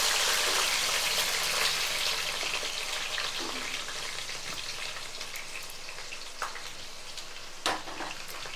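Curry leaves and masala paste fry in a pan with a loud, bright crackling sizzle that eases slightly over time, with a couple of soft knocks near the end and no voices.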